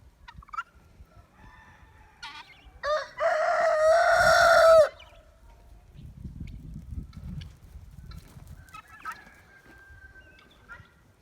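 A rooster crows loudly once, with soft clucking and scattered bird calls before and after in a quiet yard.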